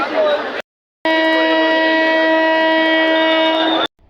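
A train whistle blows loud and steady after a short burst of crowd noise and a brief gap, holding a long sustained tone for nearly three seconds before cutting off.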